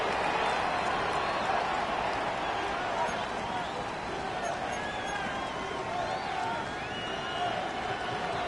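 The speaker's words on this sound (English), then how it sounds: "This crowd turning up the decibel level." Stadium crowd in a Madden football game, a dense continuous roar of many voices swelling steadily, with a play-by-play announcer talking over it.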